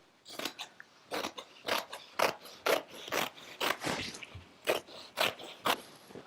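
Scissors snip through an excess piece of fabric during sewing, giving a rhythmic series of about a dozen crisp, close cuts with short pauses between them.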